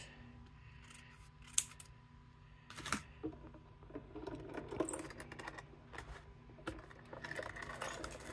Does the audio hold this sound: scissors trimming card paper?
yes